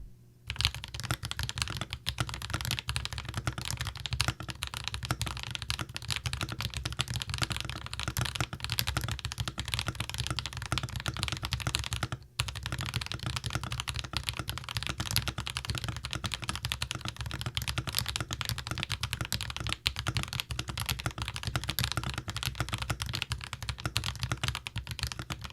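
Dense, continuous clacky typing on a Keydous NJ81 mechanical keyboard, with rapid overlapping keystrokes at close range and a single brief pause midway.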